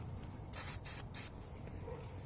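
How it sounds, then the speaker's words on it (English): Penetrating lubricant sprayed into a hole on a Kohler Command engine of a Miller Bobcat welder: a few close hissy aerosol bursts, the longest about a second, separated by short pauses over low background hum. "do spray some lubricant, penetrating fluid, W40 or PB Blaster"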